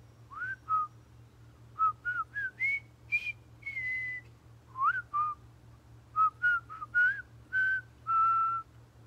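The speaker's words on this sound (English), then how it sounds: "Do you know what a whistle is? It sounds like this." A person whistles a short tune alone, series of clear rising and sliding notes with brief pauses between phrases, over a faint steady hum.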